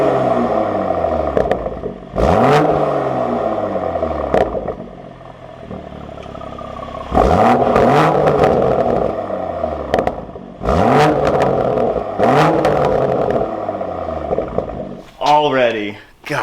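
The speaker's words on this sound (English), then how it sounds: "we're gonna do rev in normal mode and then sport mode because you are gonna still get different sounds" A manual Toyota Supra with an AWE exhaust revs hard in repeated loud bursts that climb and drop in pitch, with gaps between them and a quick final blip, close by.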